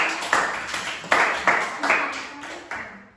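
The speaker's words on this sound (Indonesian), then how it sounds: "Ya tepuk tangan buat kita" A classroom of students claps their hands in a rhythmic pattern, about eight sharp bursts of claps, each fading quickly before the next.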